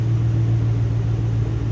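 A supercharged engine in a 2007 Ford Mustang Roush 427R convertible idles with a deep, steady, close rumble, unbroken and with no other sound over it.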